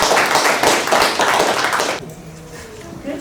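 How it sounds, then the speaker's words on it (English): An audience at a student writing-class debate claps, a dense burst of applause that stops abruptly after two seconds, leaving a quiet room. "now you can clap"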